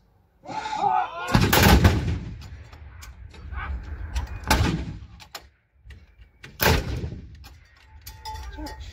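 Gunfire at a festival range event: a few loud, sharp reports spaced several seconds apart, with talk and background noise between the shots.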